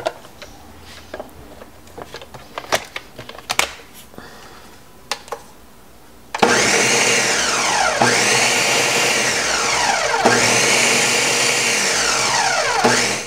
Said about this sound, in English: we've got the tomatoes all pureed in the blender